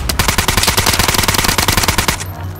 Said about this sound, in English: I'm getting shot from the wall